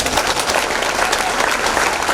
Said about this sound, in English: I would like to expect a big sound from you with claps